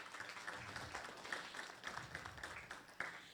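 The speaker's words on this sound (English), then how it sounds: "Please, let's give him a round of applause." A faint, scattered round of applause from an indoor audience at a World Population Day ceremony, made of many light hand claps that come in uneven bursts for a few seconds.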